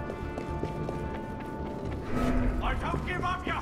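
Horse hooves in Assassin's Creed Unity, a quick galloping rhythm running through smoky streets amid game noise, with someone talking over it.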